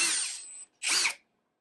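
Two quick bursts from a LAZYLAND 21V brushless impact driver drive a screw into a pine trim board, a loud, close whir followed by a brief pause and a second short burst.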